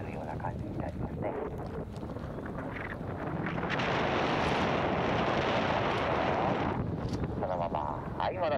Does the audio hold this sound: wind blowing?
yes